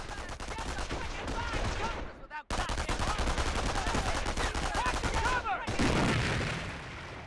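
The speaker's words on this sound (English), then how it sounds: "Let's throw a grenade to destroy the machine gun team." Combat in the WWII strategy game Company of Heroes, where a grenade is thrown at an MG-42 machine gun team: dense, continuous gunfire rattles loudly throughout, broken by two brief drops before resuming.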